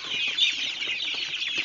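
A crowd of hungry one-month-old KUB chicks kept in a box peeps continuously, high and busy, with overlapping calls close by.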